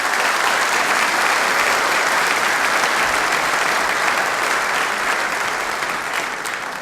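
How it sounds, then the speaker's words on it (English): An audience at a tech conference keynote breaks into steady, loud applause lasting several seconds, thinning slightly toward the end, with no speech over it. "Give them a round of applause."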